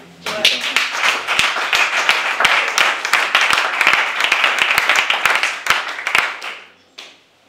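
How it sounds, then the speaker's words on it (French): A lively round of audience applause with sharp, close individual claps fills several seconds at a talk at a regeneration center, then thins out and stops, with a few voices mixed in. "je pense qu'on peut vraiment l'applaudir"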